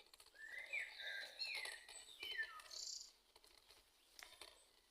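Birds sing along a descending forest path where wild garlic grows, with several high, quick warbling phrases and chirps overlapping in a faint, continuous chorus, some calls nearer than others, and no talk.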